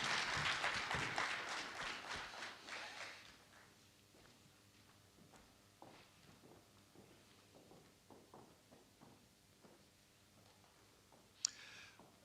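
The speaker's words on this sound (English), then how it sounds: "Let's give our panelists a round of applause as they take their seats" Audience applause for panelists taking their seats at a Meharry Medical College event, loud and dense for about three seconds, then fading into scattered footsteps and light clicks, with a sharp snap near the end.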